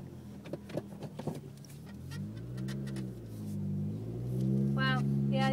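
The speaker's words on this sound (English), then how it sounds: "So we're going for a test drive." A 2004 Honda Civic with a manual clutch on a test drive, its engine rumbling and rising steadily as the car pulls away, with some brief knocks and voices early on.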